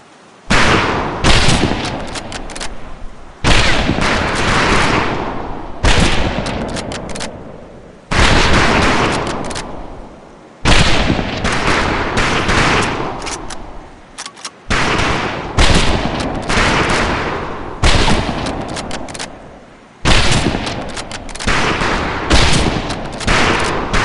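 Rifle gunfire on a military shooting range in Medal of Honor Pacific Assault: loud, dense bursts of rapid shots in repeated volleys separated by brief pauses, with no voices.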